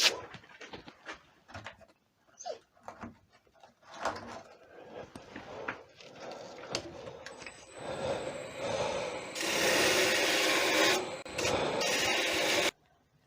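A wooden sword blade, turned on a lathe, is sanded down through the grits. It starts with scattered close rubs and scrapes, then turns into a louder, sustained abrasive hiss over the last few seconds before stopping.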